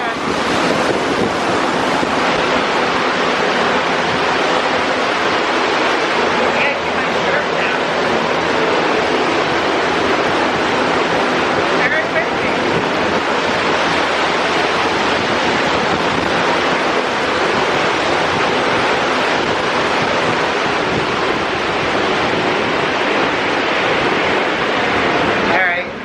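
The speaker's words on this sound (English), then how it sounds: "Here comes the fan." A powerful fan simulating Category 3 hurricane wind roars continuously at full strength, a loud, steady rushing blast of air like storm wind that never lets up.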